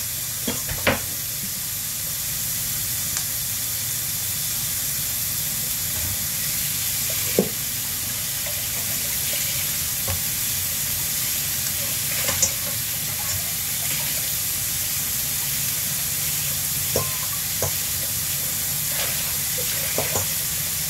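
Mince browning for shepherd's pie gives a loud, steady sizzle that hisses without pause, broken by occasional faint clicks and small pops.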